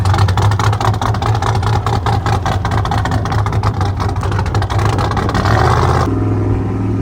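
A nitrous LS-powered Cadillac tears through the woods with a loud, continuous engine roar, a deep rumble with rapid pulsing, close up and dropping to a lower drone near the end.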